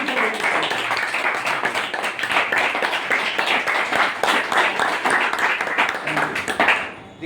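An audience claps together at a gathering, a dense, steady round of applause that fills the whole stretch at close range and stops abruptly near the end.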